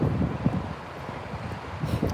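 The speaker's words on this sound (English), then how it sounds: "I'm in a windy area. I probably should get out of the wind so you don't hear that on the microphone" Gusty wind buffets an outdoor microphone, producing low rumbling bursts that rise and fall, loudest at the start and end, with no talk.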